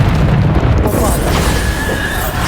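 A Bombarda spell blast in the Hogwarts Legacy video game, a loud booming explosion that fills the whole short span and decays into a rumbling, crackling tail.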